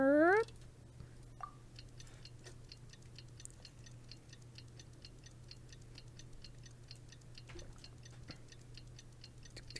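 A clock ticking in the video game Genshin Impact, a steady, regular run of faint ticks that continues alone after a brief opening sound.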